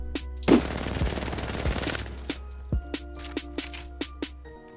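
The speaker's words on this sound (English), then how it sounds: "I'm gonna show you guys recoil control and no recoil control with the R99." An R99 submachine gun in Apex Legends firing one dense, rapid automatic burst, followed by a string of evenly spaced single clicks and shots, close and sharp with no talk.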